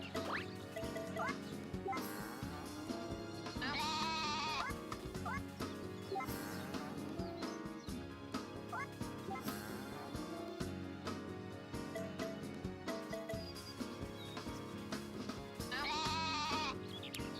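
A goat bleats repeatedly in the farming video game Story of Seasons: A Wonderful Life, with wavering cries recurring every few seconds over continuous cheerful background music.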